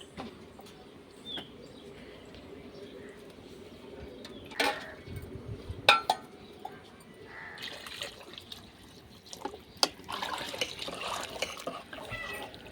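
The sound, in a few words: water poured into cooking pot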